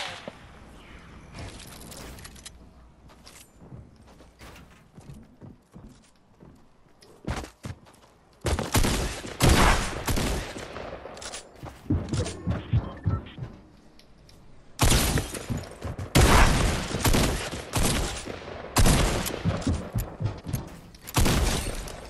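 Gunfire in the video game Fortnite comes in long, loud bursts of rapid automatic shots, separated by quieter stretches with footsteps and a voice speaking in between.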